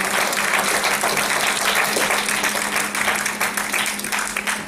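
Sustained applause from a concert audience at an anniversary show in Vulcan, Hunedoara, cheering a singer; dense, steady clapping fills the whole stretch at even loudness, with no voices on top.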